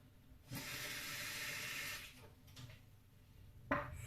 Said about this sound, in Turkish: Şimdi buraya su ilave ediyorum